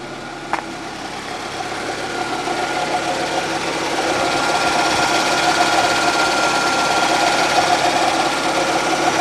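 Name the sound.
small rattle from a running 1989 Ford Escort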